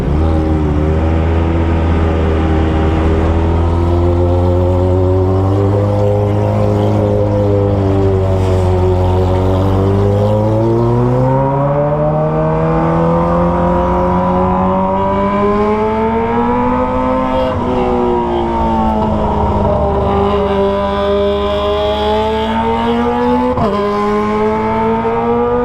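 A Kawasaki ZX25R motorcycle fitted with a Toce exhaust rides along, its high-pitched engine loud and close, revs climbing and falling in long smooth sweeps with a sharp shift near the end.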